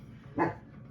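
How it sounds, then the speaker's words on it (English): A dog gives one short, fairly quiet growling bark at a water bottle indoors, a brief burst standing out from low background noise. "my dog is just growling at a water bottle"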